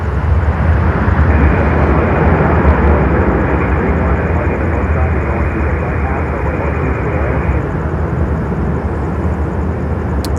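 An airliner touches down on the runway at Miami airport, heard as a loud, steady broadband roar of engines and rushing air that holds through the clip, with a voice speaking over it.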